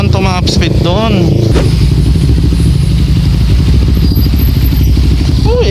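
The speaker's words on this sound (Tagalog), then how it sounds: "Ang sarap ng mga rev match dito" A motorcycle engine revs loudly and steadily up close with rev-matching blips, a constant dense drone running throughout while someone talks briefly over it at the start.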